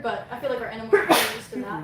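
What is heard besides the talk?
sneeze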